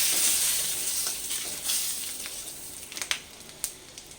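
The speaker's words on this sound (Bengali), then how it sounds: "এবার ওই তেলের মধ্যে আমি তেজপাতা শুকনো লঙ্কা আর পাঁচ ফোড়ন দিয়ে দিলাম" Bay leaves, dried red chillies and five-spice seeds hit hot oil left from frying aubergines, giving a bright, steady sizzle close by with sharp pops and crackles toward the end.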